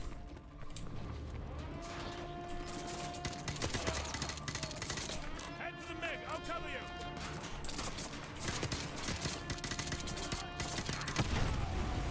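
Gunfire from the MW2 Campaign Remastered video game: bursts of automatic weapon fire and scattered shots run throughout the clip over a dense battle soundscape, with a voice talking over it.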